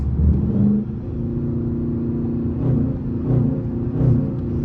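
A Dodge Charger RT's 5.7 engine rumbles loud and close, with a low steady drone and a few brief rises in revs.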